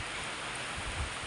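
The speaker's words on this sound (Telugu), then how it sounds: "వర్షం అయితే ఫుల్ వర్షం." Steady, dense hiss of heavy rain falling outdoors near a tree, continuous and even throughout with no voices.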